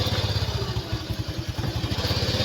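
A motorcycle engine chugs with a low, rapid rhythmic pulse, running close and steady throughout with a mechanical clatter.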